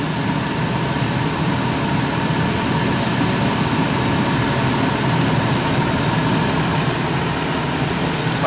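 A Dodge Caravan engine idles steadily during an air conditioning repair, giving a loud, even mechanical hum and rumble that runs unchanged from start to finish with no voices.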